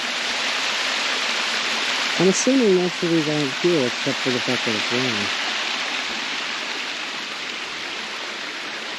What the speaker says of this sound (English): Another beautiful little cascade of water.